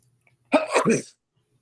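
A single sharp sneeze, close and clear, in otherwise quiet surroundings.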